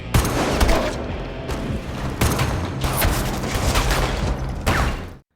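Gunfire fills a film shootout, with dense bursts of shots and booms in rapid, uneven volleys, loud and close, ending abruptly.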